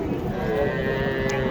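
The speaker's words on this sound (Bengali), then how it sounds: "সুন্দর কোয়ালিটির এই মহিষের বাচ্চাগুলি দেখতেছি।" Young buffalo calves at a rural livestock market moo faintly amid steady crowd chatter and background noise, a brief dense market din.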